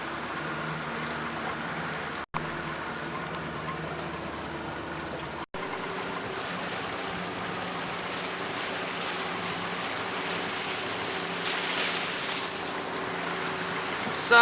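A Fletcher Arrowflash 15 motorboat leaves harbour at about 5 knots, its outboard motor a steady low drone with wind and water wash, moderately faint, with no talking.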